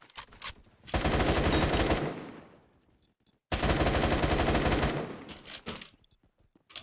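Rapid automatic gunfire from a Roblox first-person shooter comes in two long sustained bursts separated by a short gap, with a few scattered single shots around them.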